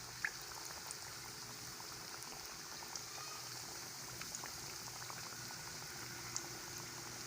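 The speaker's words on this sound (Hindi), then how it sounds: "अब हम इसमें पैटीज को डाल देंगे और इसको मीडियम फ्लेम पे जो है हम फ्राई करेंगे।" Chicken burger patties fry in hot oil in a kadhai over a medium flame, producing a faint, even bubbling hiss with scattered tiny pops throughout and no talking.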